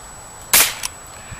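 One sharp, loud crack comes from a fired pellet gun. A short, fainter tick follows it, and there is quiet room noise before and after.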